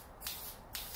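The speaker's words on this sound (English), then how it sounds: "Gonna hit it with some spray lacquer" A spray can of lacquer being sprayed onto a small wooden project in a workshop, with two short hissing bursts separated by a brief pause, close and quiet.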